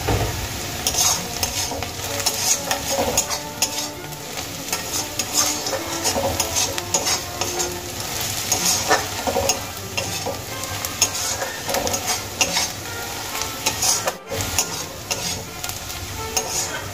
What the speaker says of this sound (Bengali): আরও কিছুক্ষণ আমি পেঁয়াজগুলোকে ভেজে নেব হালকা ব্রাউন করে।